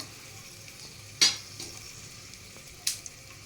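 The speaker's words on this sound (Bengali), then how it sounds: "আমার তেল গরম হয়ে গেছে, এবার আমি এর মধ্যে দিচ্ছি তেজপাতা, দুটো শুকনো লঙ্কা" Bay leaves and two dried red chillies dropped into hot oil, giving two short sharp sizzling bursts with a quieter crackle between them, close and otherwise faint.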